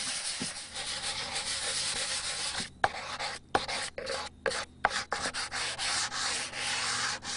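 Hand sanding across painted rustic wood furniture such as a table or bench, a steady raspy rubbing that runs in long strokes broken by several short pauses and sharper scuffs, close and fairly loud.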